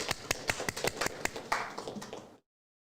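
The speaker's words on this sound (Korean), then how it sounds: "박수" A short burst of scattered hand claps from a church service congregation, uneven and fairly close, fading out after about two seconds.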